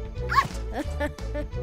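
A cartoon puppy barks in a few short, high, yappy bursts, evenly spaced and close up, with a low background hum under them.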